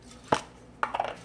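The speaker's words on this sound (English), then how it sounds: "take whatever it is you want to cut it, divide it directly in half, like so" Two close, sharp cuts of a tool through homemade pizza dough onto a surface, a single thud then a slightly longer scraping press, with no talk.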